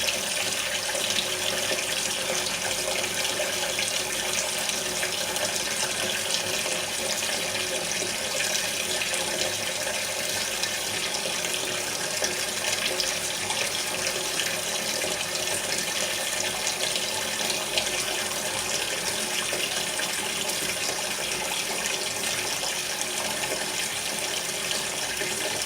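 Water pours steadily into a container for soaking seed trays of soil, making a continuous, even splashing rush at close range with no pauses.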